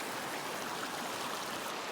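Water from Copper Creek in southwest Washington rushes steadily through a gold sluice, a constant close hiss and gurgle with no talk.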